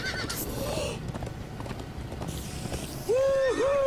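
Horses galloping in the video game Minecraft Story Mode, rapid clip-clop hoofbeats with repeated whinnies, loud and close, the last neighs rising sharply at the end.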